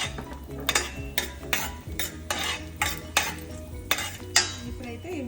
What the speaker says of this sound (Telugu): ఇప్పుడు నేను కిస్మిస్ వేసేసుకుంటున్నాను.